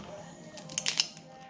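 Scissors handled close by in a quiet indoor room, a short cluster of sharp metallic snips and clicks with soft handling noise around them.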